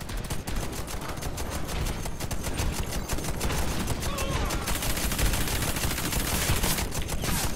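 Dense, continuous gunfire from the Warface video game, bursts of automatic weapons blending into a loud, sustained fusillade with no clear pauses throughout.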